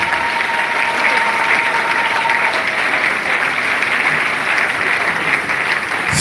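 Congregation at a church memorial service in Kinshasa applauding and acclaiming in praise of God, a dense, loud, continuous wall of clapping and cheering that holds steady throughout.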